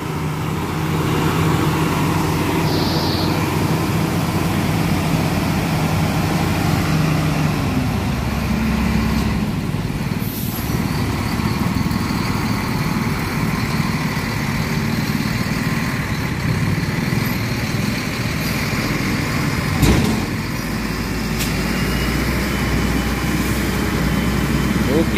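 A long trailer truck grinds up a steep, narrow road full of sharp bends, its engine a steady, heavy low rumble that drones on throughout, with voices talking over it.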